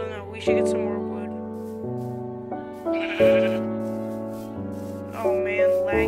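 Sheep in the Minecraft video game bleat repeatedly, several loud close calls in sequence, each a sustained wavering tone, with no speech over them.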